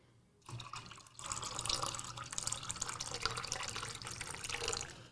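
A tap turned on to a steady stream of running water splashing into a sink, close and continuous for several seconds after a brief quiet start.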